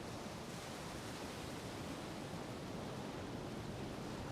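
Broadband ocean surf washing on an evening beach at the tide's edge, a steady, even roar of waves with no distinct breaks, fairly close and alone without voices.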